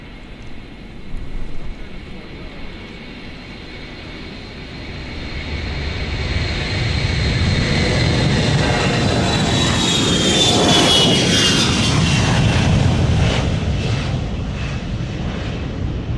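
A low-flying airplane passes over a crowd on departure, its engine roar building from moderate to a loud, sustained peak with a sweeping whine as it goes directly overhead.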